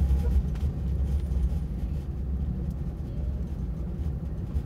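Heavy car traffic around a Christmas event in Garanhuns, Pernambuco, produces a steady low rumble of engines close by, continuous and without clear passes.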